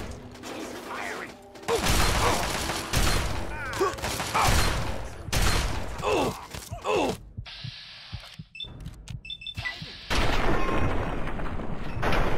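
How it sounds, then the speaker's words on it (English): An enemy opens fire in Fallout 3: a run of loud, broadband shots and rattling bursts in a game soundscape with mechanical clanks, dropping out briefly before another burst of gunfire. "He's firing!"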